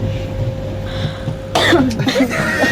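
A few sharp coughs burst out close by after a moment of quieter background with a steady hum.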